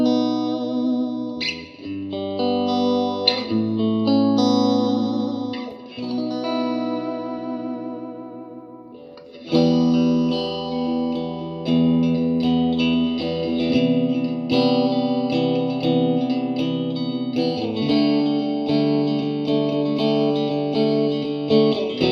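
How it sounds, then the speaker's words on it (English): Electric guitar played through a Marshall DSL1CR amp with the reverb boosted, ringing chords and single notes with wide, washy reverb tails, loud and close, no talking. "I'm going to boost the reverb again"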